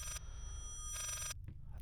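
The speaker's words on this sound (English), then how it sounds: "That phone is starting to get on my nerves." An old telephone ringing in the horror game Layers of Fear, two bright electronic ring bursts separated by a short pause, then a faint clack, over a low ambient hum.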